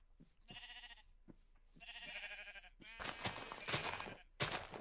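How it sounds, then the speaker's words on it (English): Sheep in the Minecraft video game bleat in two clear, wavering calls, followed by a burst of louder, noisy game sound effects. "I'll repay you for the sheep that I'm killing in your biome."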